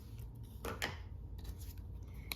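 Quiet scissors snipping a scrap of Daffodil Delight cardstock, a few short crisp cuts close by in a calm room.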